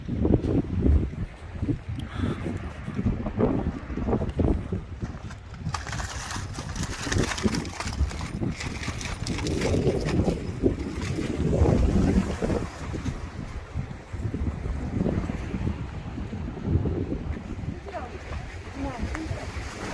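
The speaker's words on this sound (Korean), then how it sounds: "바람이 엄청나게 부는데요" Strong wind gusting across a beach at Guryongpo in Pohang, heavy buffeting rumble on the microphone with surf in the background, rising and falling in gusts while people talk.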